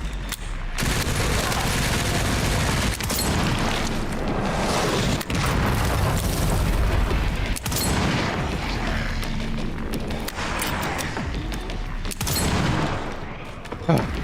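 Mortar explosions and heavy gunfire boom and crackle in the video game Resident Evil Requiem, a loud dense barrage of blasts with sharp repeated reports running throughout, a voice talking faintly underneath.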